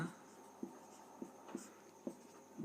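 Pen or chalk writing out a class 10 quadratic equations maths solution, heard as quiet, regular scratchy strokes of about half a second each against a soft room hum, with no talking.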